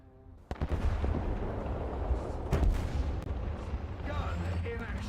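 In a War Thunder battle, a heavy gun fires with a sharp boom that rolls into a long rumbling blast, followed by another loud report and sustained low rumble and clatter.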